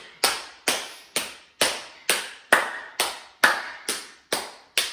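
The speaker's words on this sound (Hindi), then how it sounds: "मैं ताली बजाते हुए" Single person clapping hands during a seated hand yoga exercise on a mat: about eleven sharp, evenly spaced claps, close and fairly loud, each with a short decaying tail, no talking.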